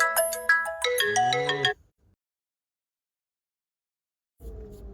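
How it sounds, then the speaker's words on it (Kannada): A mobile phone ringtone for an incoming call plays a bright, melodic tune up close for under two seconds and then cuts off into silence before a brief, muffled sound near the end. "ಫೋನ್ ಕಾಲ್ ಬಂತು"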